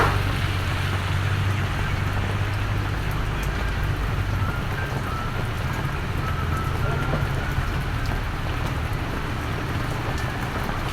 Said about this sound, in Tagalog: So panoorin muna natin yung mga ulan.